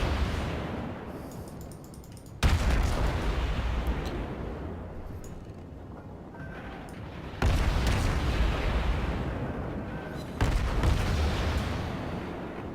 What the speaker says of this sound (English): Got some shells incoming